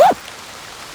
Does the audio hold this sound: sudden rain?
yes